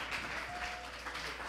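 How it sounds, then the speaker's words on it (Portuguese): Church congregation applauding together at a family conference service, a broad steady wash of clapping across the whole moment, moderately loud with no talk over it. "Dá uma salva de palmas para o Senhor."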